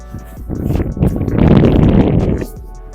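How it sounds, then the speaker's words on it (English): Wind buffets outdoors among trees being trimmed and cleared, a swelling rumbling gust that rises through the middle and then drops away, loud and close against the microphone. "oh, it's breezy enough."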